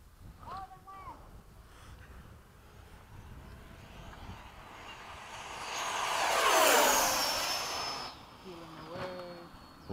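Freewing 80mm electric ducted-fan F-5 model jets passing in formation at a flying field, a whooshing whine that swells to a loud pass and fades away, with voices speaking at the start and end.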